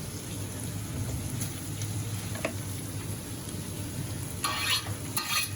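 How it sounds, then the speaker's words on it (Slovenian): Onion and garlic fry in olive oil with a steady, dense sizzle that continues throughout, with a few brief clinks and stirring scrapes near the end, close and even in loudness. "Ko se nam čebula malo zjoka, dodamo še česenček."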